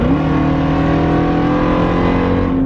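A Jeep Trackhawk on its stock exhaust gives a short rev, a loud, steady engine drone with strong low harmonics rising slightly and holding close by for under three seconds, with no talk.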